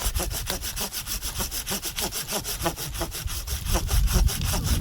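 Hand saw cutting through walnut wood in fast, even back-and-forth strokes, a rhythmic rasping that stays loud and close for the whole stretch.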